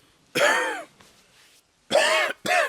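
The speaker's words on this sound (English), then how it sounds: "this cough is not good" Close-up, raspy coughing: one long cough, a pause, then two more in quick succession.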